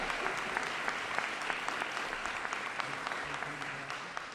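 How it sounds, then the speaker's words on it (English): Dense, steady applause from an audience at a press event in Buffalo, New York, honoring the governor during an infrastructure funding announcement, sustained at even loudness throughout with many overlapping claps. "Let's give our great governor another round of applause."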